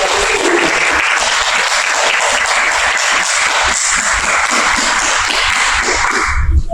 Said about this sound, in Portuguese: Então, uma salva de palmas para vocês.